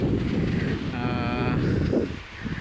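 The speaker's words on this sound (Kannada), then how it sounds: "ಗಾಳಿ ಒಳ್ಳೆ ಬೀಸ್ತಿದೆ" Wind blows steadily on a seashore, a continuous rushing roar buffeting the microphone with a brief tonal whistle midway, and faint voices underneath.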